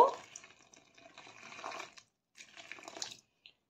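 Water poured from a container into flour for pitha dough, a faint trickling splash in two short runs separated by a brief pause, heard alone and close by in a quiet home kitchen.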